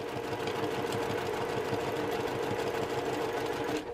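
A sewing machine stitches a quilt block slowly along a marked line, a steady close mechanical whir with a rapid regular needle pulse running unbroken until it stops at the end.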